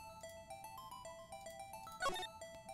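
Electronic phone beeping from the Phoenix Wright: Ace Attorney video game, a repeated ringtone-like chirp over steady game music, with a brief louder burst near the end.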